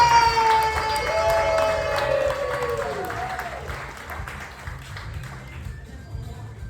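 Comedy club crowd at a clean stand-up show in The Woodlands, Texas, breaking into loud applause, with whooping cheers rising over the clapping at first, then settling into a steady, slightly fading wash of claps.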